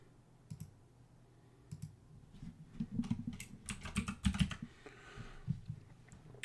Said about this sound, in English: I'm using this online click counter.